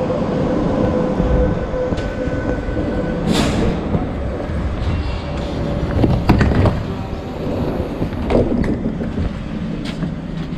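A Cologne Stadtbahn light rail train on the line toward Bonn, heard from inside while riding: a loud, steady rumble of wheels and running gear with occasional squeals and clicks over the track.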